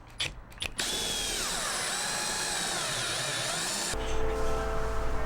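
A power drill drives screws during an Airstream trailer renovation, its loud, steady whine running for about three seconds before shifting into a lower, rougher tone, with a few brief clicks at the start.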